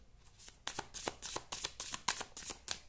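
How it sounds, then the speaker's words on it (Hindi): Tarot cards being shuffled and drawn by hand, a quick series of crisp papery riffles and flicks close by, with no talk over them. "ये एक कार्ड और मैं निकालूंगी"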